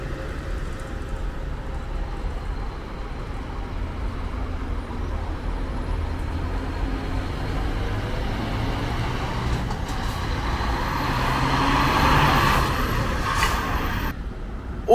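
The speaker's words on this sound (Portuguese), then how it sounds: "vai saindo o ônibus que desembarcou passageiros na linha Curitiba-São Paulo, da Suzantur, Caiçara" Suzantur Caiçara intercity coach on the Curitiba–São Paulo line pulling away from a bus terminal after dropping off passengers, a low engine rumble that builds slowly amid station ambience, with a brief hiss near the end.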